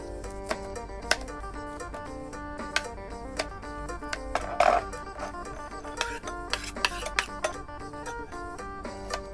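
A knife chops banana peppers on a cutting board while preparing a Thai chili dip, giving rapid, irregular clicks and taps over light background music.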